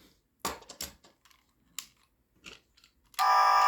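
Scattered clicks and taps of handling a Transformers Energon Omega Supreme toy, then a loud electronic fire engine siren sound effect bursts in and continues to the end.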